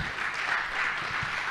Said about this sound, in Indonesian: Boleh kita tepuk tangan sekali hadirin sekalian?